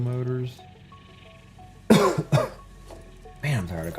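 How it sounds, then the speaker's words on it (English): A man coughs in two harsh, close bursts and then gives a third rougher cough a moment later, with soft background music and his voice between them. "Man, I'm tired of coughing."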